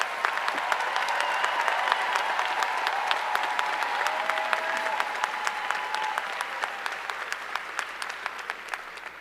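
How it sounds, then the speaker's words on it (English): Graduation audience at a 2022 high school commencement breaks into sustained applause, dense clapping from a large crowd filling the hall for several seconds and slowly thinning toward the end. "Let's give this amazing, strong, and capable group of students a round of applause"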